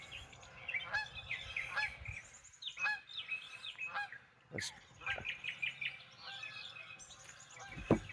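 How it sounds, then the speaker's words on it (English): Canada geese honk repeatedly at a farm, a quiet, fairly distant flock calling in uneven bursts with overlapping nasal honks and some smaller bird chirps mixed in. "Canadian geese"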